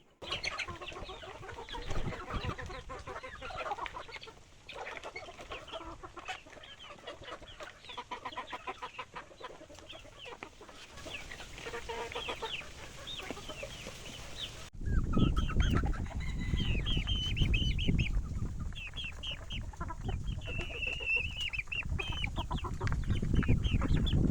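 Chickens on a game farm range area cluck and chatter in a busy flock at feeding time, with a louder burst of clucking and squawks in the latter half.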